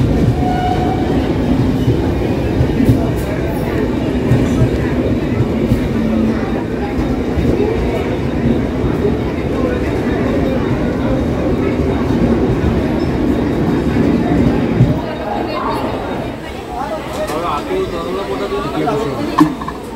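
A crowded local commuter train rumbles and clatters along the rails in a continuous, close roar, with people talking over it and the sound shifting partway through.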